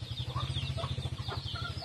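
Native chickens cluck and chatter in a busy flock, with a fast, regular low throbbing running steadily underneath and occasional higher calls.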